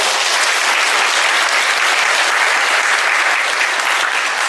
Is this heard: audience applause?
yes